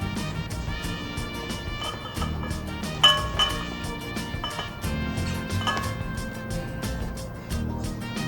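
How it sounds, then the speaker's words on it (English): Bath bomb ingredients being mixed in a bowl, repeated light clinking and tapping of a utensil against the bowl in an uneven rhythm, close up, with one sharper ringing clink partway through and a low voice in the background. "we'll mix all that in together"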